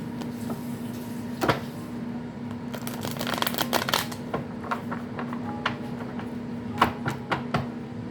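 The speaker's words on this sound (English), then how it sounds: "last shuffle" Tarot cards being shuffled by hand, with soft riffling and papery slaps, a few sharper taps and clacks at irregular intervals over a steady low hum, close and fairly quiet, with no talking.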